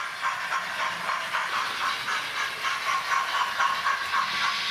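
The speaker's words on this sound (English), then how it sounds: "it seems very strange to sort of run a train into the big fiddle yard" An OO gauge model steam locomotive, Tornado, runs along a layout track near a fiddle yard, giving a continuous soft hiss and rolling rumble with faint rhythmic clicking.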